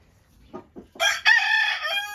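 A rooster calling hens gives a few soft clucks, then a loud, drawn-out crowing call up close, quiet surroundings.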